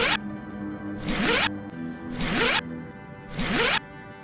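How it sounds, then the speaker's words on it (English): Zip ties ratchet tight on a garden bed trellis, four quick zipping pulls spaced about a second apart, close and crisp with quiet pauses between. "let's get these zip tied"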